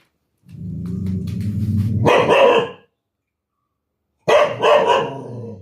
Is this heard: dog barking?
yes